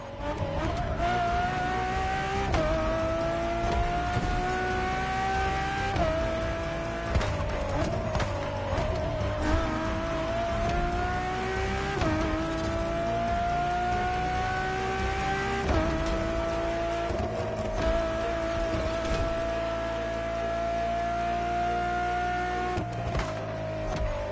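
A Ferrari road-legal Formula One car with Pininfarina design drives continuously and loudly, its engine note rising through repeated gear changes with short dips between shifts, all without any talking.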